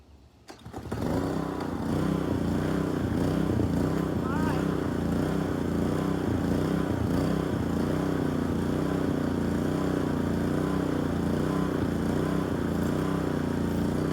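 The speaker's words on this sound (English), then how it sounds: "Get this power washer fired up real quick." Power washer engine pulled to life outdoors during a motorcycle cleaning, a quick start followed by a steady loud droning rumble running continuously, with a person talking briefly over it.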